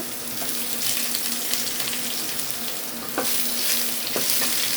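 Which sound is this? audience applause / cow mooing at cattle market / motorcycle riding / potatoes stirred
potatoes stirred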